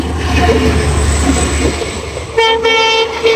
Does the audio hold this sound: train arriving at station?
yes